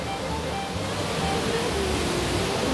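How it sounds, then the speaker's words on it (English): Steady broadband roar of a waterfall heard from a small shallow cave tucked behind the falling water at Lost Creek, Tennessee, constant and close with no break. "nice angle of this beautiful waterfall."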